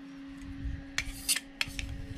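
A knife scrapes across plastic during furniture building, giving a few quick rasping strokes close by over a steady low electrical hum.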